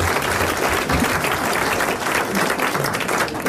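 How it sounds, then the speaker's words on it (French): A 1980 French television studio audience applauds in a steady, loud wash of clapping that holds evenly for a few seconds, with no voices heard. "Vous applaudissez quand même"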